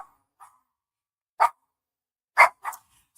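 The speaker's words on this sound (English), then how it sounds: "Sorry about my dog. He likes to bark when there's any type of noise going on." A pet dog barks indoors in a few sharp, separate bursts, one soft yip followed by louder barks with pauses of silence between them.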